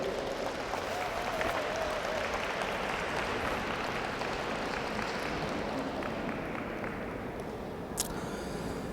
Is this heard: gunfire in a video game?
no